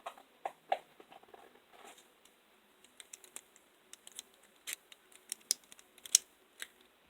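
Scissors snipping through material for a homemade lime and lemon salt-electrolyte battery with copper and aluminium, a run of short, crisp close-up cuts and clicks, sparse at first and then coming faster, with no talking.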